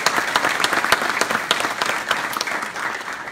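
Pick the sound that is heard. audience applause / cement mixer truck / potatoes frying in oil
audience applause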